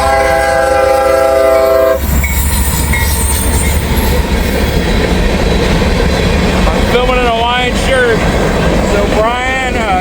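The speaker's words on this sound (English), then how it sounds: "I got a train coming southbound." A southbound CSX freight train rumbles past up close with steady wheel clatter and a squeal, its horn blaring in several loud blasts over the roar near the end.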